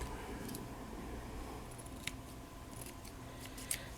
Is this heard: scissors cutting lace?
yes